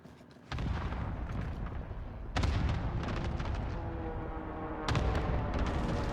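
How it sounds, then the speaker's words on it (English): Cluster strike explosions in the video game Call of Duty Warzone: a series of heavy booming blasts, with several sharp bursts and a steady rumbling barrage in between, heard without any voices. "Allied cluster strike arriving."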